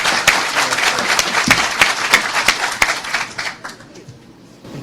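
An audience applauds at a lecture, a burst of close, dense clapping that carries on steadily and then thins out and fades over the last second or two.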